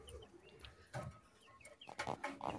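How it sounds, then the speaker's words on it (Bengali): Tiger-breed chickens feeding, with soft close clucks and short chirping calls scattered over quiet scratching, faint and intermittent, no talk. "এই যে দেখেন টাইগার মুরগিগুলো খাবার খাচ্ছে।"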